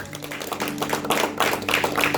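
Church congregation clapping together during a sermon, a steady run of dense, fairly loud hand claps with no pause over a couple of seconds.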